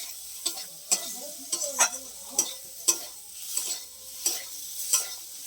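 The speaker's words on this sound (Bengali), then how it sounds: "এবার আলুটাকে দিয়ে একটু মশলাটাকে দিয়ে ভালো করে কষিয়ে নিচ্ছে" Boiled potatoes stirred with spices in a pan, heard as a string of distinct spatula scrapes and clacks about every half second over a soft sizzle.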